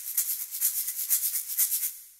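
A shaker sample shaped with EQ, dry with no erosion processing: a steady run of bright, airy rattling pulses in an even rhythm, close and moderately quiet, alone with no talk.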